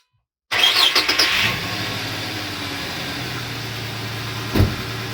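A car engine with new spark plugs cranks and catches, then settles into a steady low idle rumble, close by, with a brief louder burst near the end.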